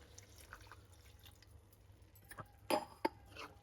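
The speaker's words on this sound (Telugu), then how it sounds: "కొద్దిగా వాటర్ పోసుకొని" A little water is poured into a pan of prawn and boiled egg curry, a faint dribble followed by two brief close splashes in a quiet kitchen.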